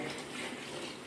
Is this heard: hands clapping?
no